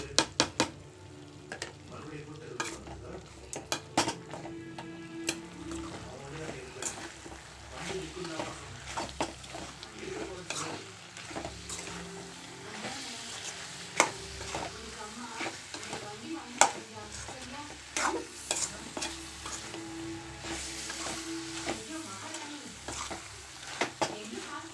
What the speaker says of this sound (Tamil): இதெல்லாம் இதல கொட்டி நம்ம mix பண்ணிக்கலாம்